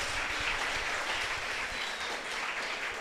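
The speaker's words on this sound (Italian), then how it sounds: "la ringraziamo anche con un applauso per le parole che ha rivolto ai ragazzi" An audience applauds steadily for a professor at an Italian event, a dense, even wash of many hands clapping throughout with no speech.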